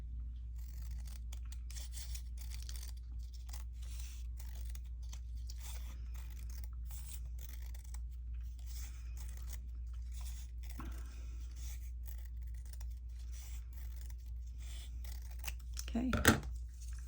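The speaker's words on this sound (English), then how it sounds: "I'm just going to cut this in half." Scissors snip through a strip of gold paper in a quiet room, one short crisp cut standing out near the end over a low steady background hum.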